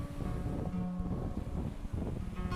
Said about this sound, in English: you'll get massive gusts as you pass the valleys and then no wind whatsoever when you pass the cliffs